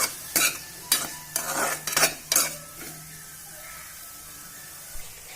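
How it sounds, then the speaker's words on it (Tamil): Tomatoes being stir-fried in a pan, with a utensil scraping and clattering against the metal in five quick bursts over a soft sizzle, then quieter frying near the end. "தக்காளி நல்லா வதங்கட்டும்."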